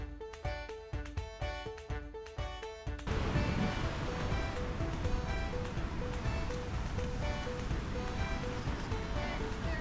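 Ocean surf during a king tide at the cliffs of Shore Acres State Park, a continuous broad roar of crashing waves after a few seconds of rhythmic tonal sound at the start.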